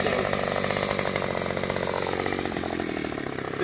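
A BadBoy gas string trimmer with its guard fitted runs at high throttle while cutting lawn, its buzzing two-stroke engine loud and steady with slight pitch wavering throughout.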